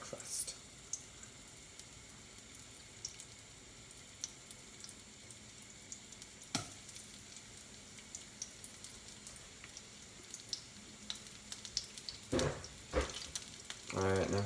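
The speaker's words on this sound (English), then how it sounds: "You can hear that sizzle, that's the sound of God's breakfast." Avocado frying in a pan with a soft, steady sizzle and light crackling throughout, with a few louder clatters near the end.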